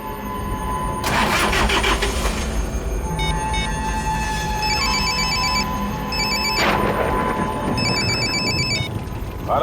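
A phone rings repeatedly with an electronic ringtone and goes unanswered, its tones repeating in bursts over a steady background rumble with a swell of noise partway through.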